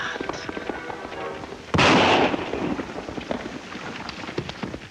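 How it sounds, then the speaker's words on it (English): A single rifle shot in an outdoor Western scene, one sharp loud crack with a short decaying tail, amid quieter background sounds. "did you hear that? Rifle shot come from road, maybe."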